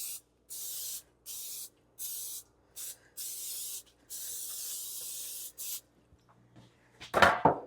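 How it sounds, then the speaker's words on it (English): Several short hissing bursts from an aerosol cooking spray can onto a 9 by 13 baking pan, spaced unevenly, then a couple of brief metallic clatters at the end. "We are going to spray a 9 by 13 pan"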